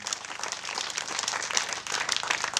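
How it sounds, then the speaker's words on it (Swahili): A church gathering applauds a young widow, with dense, continuous clapping from a crowd at moderate distance that stays steady and lively throughout. "Pigia yeye makofi jamani."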